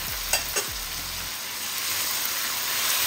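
Crushed and chopped tomato hitting a hot pan for a Guyanese butterfish curry with garlic and onion, a couple of soft clunks then a steady, close sizzle with no talking.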